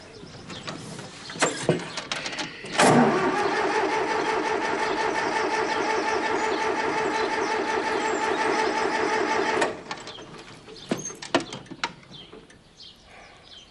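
A moped engine cranks with a few sputters, catches and idles steadily for several seconds at close range, then cuts off, leaving faint clatter and birdsong in a farmyard.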